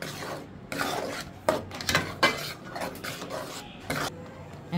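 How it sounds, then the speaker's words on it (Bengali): Spice powders, five-spice powder and chili flakes being mixed together in a bowl, producing repeated rubbing and scraping strokes of a spoon in an uneven rhythm, close and moderately quiet. "ভালো করে আমি সব একসাথে মিশিয়ে নিব।"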